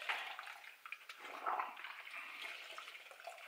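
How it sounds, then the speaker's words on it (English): A Lambretta scooter air filter swished and rinsed in a bucket of soapy water, a continuous close sloshing and splashing with small surges, fairly quiet and alone. "give it a good old rinse."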